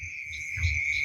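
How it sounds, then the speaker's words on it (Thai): Frogs and small frogs calling at night over rice fields beside a rural vegetable garden, a steady high trilling chorus with a low rumble swelling near the middle, continuous and moderately loud with no talking. "เสียงกบเสียงเขียดห้อง"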